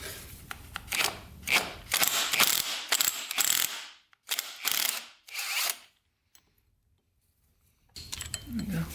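A ratchet loosens the 19 mm clutch nut on a Yamaha YZ80 dirt bike, producing close bursts of rapid metallic clicking with short pauses and a long silent gap, then a final clatter, with someone talking between bursts.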